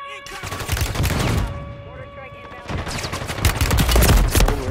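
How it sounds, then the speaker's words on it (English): Mortar strike in the video game Call of Duty: loud, rumbling bursts of impacts come in two waves, near and heavy, with voices in the game audio. "Mortar support incoming."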